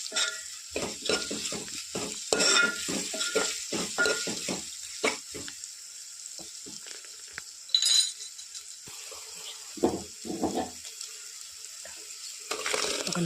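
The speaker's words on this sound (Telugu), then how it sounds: "కాబట్టి పచ్చి వాసన పోయే వరకు 1 నిమిషం పాటు వేగనివ్వాలి" Rasam powder frying in a pan for Andhra-style tomato rasam, a continuous close sizzle broken by repeated scraping and clinking stirring strokes, with quieter pauses in between.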